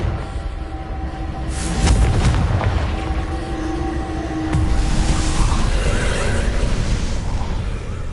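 Spell explosions from the Confringo fire curse in Hogwarts Legacy on PS5, loud booming bursts over a dense, continuous game soundscape with rumbling low end and no speech.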